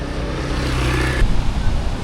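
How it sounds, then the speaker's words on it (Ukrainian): Strong sea surf churning on a windy day, whitecapped waves rolling in with a steady broadband roar and gusts, a sharper surge near the middle, close and fairly loud. "Подивіться, яка сильна хвиля сьогодні на морі і аж завертає, море аж біле."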